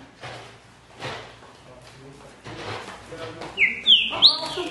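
A green-winged saltator (trinca-ferro) sings a few loud, clear whistled notes toward the end, following a stretch of murmuring background noise.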